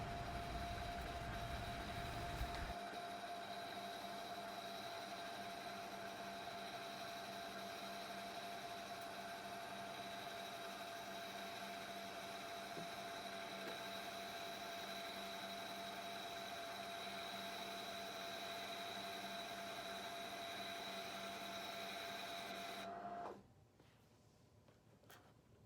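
Brother SQ sewing machine winding a bobbin, a steady continuous whirring motor hum with a fine high whine, running evenly for over twenty seconds before stopping abruptly near the end.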